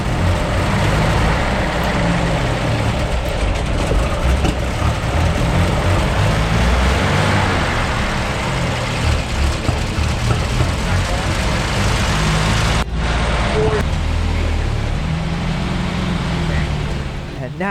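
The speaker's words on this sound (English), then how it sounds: "now the engine is running without smacking the bottom of the oil pan" A 1938 Buick Special engine idles steadily and continuously nearby, a dense low rumble that runs the whole time, with a brief dip partway through before the running resumes.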